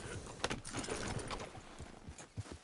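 Horse hooves clip-clopping at a steady walking rhythm, fairly faint and close, with light jangling mixed in and no voices.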